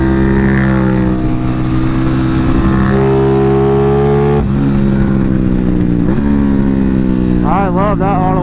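Aprilia Tuono 660 motorcycle with an UpMap tune and mods, its engine droning steadily at speed with rising and falling revs as the auto blipper snaps through gear changes, loud and close throughout.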